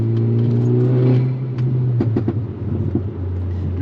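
A tuned VW Golf R pulls hard under acceleration, its engine droning loudly up through the revs before a quick gear change, with a low exhaust rumble and a few sharp pops close to the cabin.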